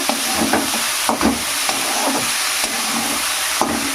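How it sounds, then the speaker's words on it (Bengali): Chickpea greens being stirred with salt and spices in a hot pan, a steady close sizzle broken by repeated scraping strokes of a spoon at an uneven rhythm. "এবার শাকগুলোকে খুব ভালো করে লবণ আর মশলার সঙ্গে মিশিয়ে নেব"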